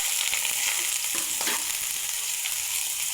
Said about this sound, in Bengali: তেলটা গরম হলে এর মধ্যে প্রথমে দিয়ে দিব আমি পেঁয়াজ কুচি